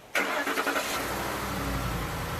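A starter whirs briefly before a 2007 Lincoln Navigator L engine catches, then settles into a steady, close idle rumble.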